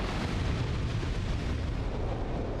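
Loud, sustained rumbling blast in the video game Dark Souls 2, a dense roar of explosion noise filling the whole stretch with no clear gaps and no voices.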